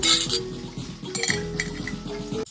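A metal lid clatters onto a cooking pot in a home kitchen, giving several bright clinks and scrapes of metal on metal, close by and with no voices.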